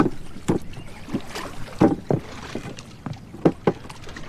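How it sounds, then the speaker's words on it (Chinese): Small wooden rowboat on water, oars sounding as a series of soft, intermittent splashes and knocks about every half second, close by, with light wind noise and no speech. "让他 把船划过来"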